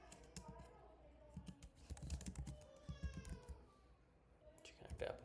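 Keys clatter on a computer keyboard in uneven bursts of typing, faint and close, while a voice talks over parts of it.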